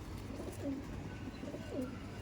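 Old-line Madrasi pigeons coo nearby, two soft, swooping coos spaced about a second apart over a low background hum.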